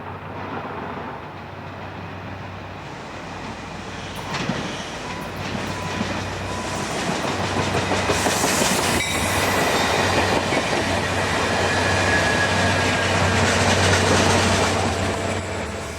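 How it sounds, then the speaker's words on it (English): A northbound Caltrain commuter train passes under an interstate overpass near Santa Clara station with a loud, steady rumble and wheel clatter that builds toward the end, with faint squealing. "a northbound Caltrain crosses under Interstate 880, approaching the Santa Clara station"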